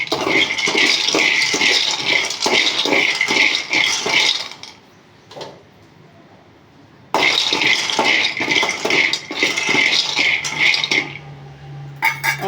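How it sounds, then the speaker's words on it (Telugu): Peanuts dry-roasting in a pan over a low flame, a dense steady rattle and scrape of nuts shifting against metal that pauses briefly midway and then resumes just as loud. "ఇప్పుడు పల్లీలు అయితే కొన్ని వేయించుకుంటున్నాను మంచిగా వేయించుకోవాలి దోరగా లో ఫ్లేమ్లో పెట్టుకొని"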